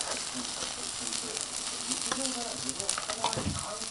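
Steady oily sizzling and crackling of takoyaki batter frying in a pan, with occasional light clicks and scrapes of a utensil turning the pieces.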